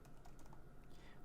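Soft typing on a computer keyboard, a short quick patter of muffled keystrokes set against a steady background hum, with no talking.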